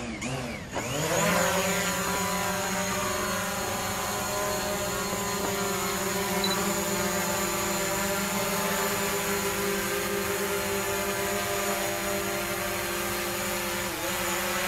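A 2017 DJI Mavic Pro drone hovering after an automatic takeoff, with a loud, steady, high-pitched propeller whine that rises as it lifts off and then holds constant, heard close with no talk.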